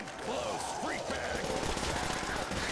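Rapid automatic gunfire from an upgraded rapid-fire weapon in a custom zombies video game, steady and fairly loud over game noise, with voices talking faintly alongside.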